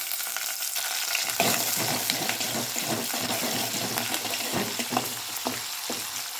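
Onion and curry leaves temper in hot oil for a spinach dish, making a loud, continuous sizzle broken by scraping stirs, with a watery hiss running throughout.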